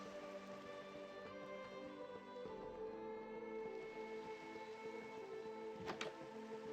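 Dreary autumn rain falls in Generations: Gen V Survival, a low, even wash of drizzle beneath a quiet tonal game ambience, with one brief sharp rustle near the end.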